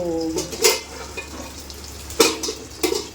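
Soft sizzling in a pan with a few scraping clinks of a spatula as frying fish pieces and fish heads are turned, close and moderately quiet.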